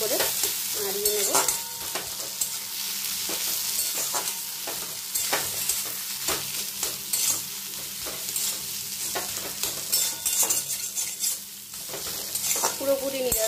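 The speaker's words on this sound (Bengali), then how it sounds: "জিরে গুঁড়ো দিয়ে দেবো, হলুদের গুঁড়ো দেব, ভালো করে নাড়িয়ে নেব।" Potatoes frying with cumin and turmeric powder in a pan for a vegetarian alu bharta, with a continuous sizzle and repeated scraping strokes of a spatula, close and steady, with no talk.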